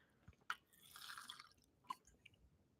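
Close, quiet sips and swallows of water with small wet clicks and gulps, a few scattered mouth sounds over a hushed background.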